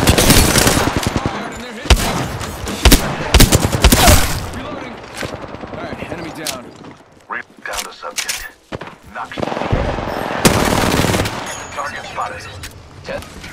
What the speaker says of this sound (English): I am taking fire, friends. Opening fire.